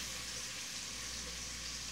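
Linguiça sausage frying in a pan for a kale farofa, a faint, steady sizzle with a low hum underneath and no voices.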